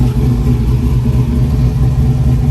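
A V8 Chevrolet S10 truck engine runs loud and close, a heavy steady rumble holding at high revs throughout with no break and no voices over it.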